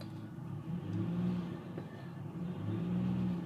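A 2009 Ford Ranger truck with low mileage idles steadily, a low, even engine hum with slight swells, close by and alone with no talk.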